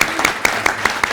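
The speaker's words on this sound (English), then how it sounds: "let's give one more round of applause to our young people today" A few sparse claps, about six sharp evenly spaced hits, ring out in a ceremony hall to honour young people, loud and close with a faint murmur beneath.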